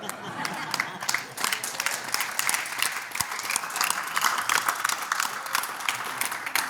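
Steady, dense applause from a crowd, many hands clapping continuously and fairly loudly for several seconds, with some voices mixed in.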